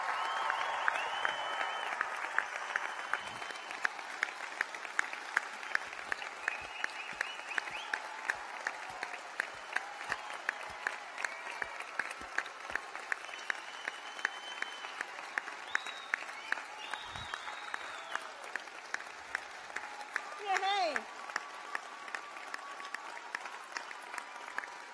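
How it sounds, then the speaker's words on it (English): Sustained audience applause at a university graduation ceremony, a dense, steady wash of many hands clapping in a large hall, continuing without a break throughout with occasional faint cheers. "I think this is definitely the best round of applause I've had at any of the graduation ceremonies."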